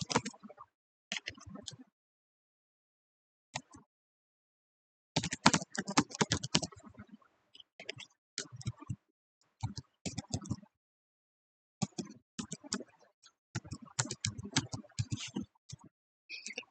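Bursts of computer keyboard typing as a buyer's name is entered into a Microsoft Access book-purchase database form, with quick close key clicks in irregular runs separated by pauses.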